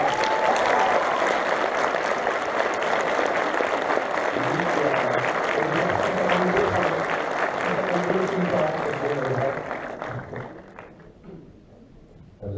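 A convention audience in Rennes applauds for a long stretch, dense and loud, with speech running under it before the clapping thins and fades near the end.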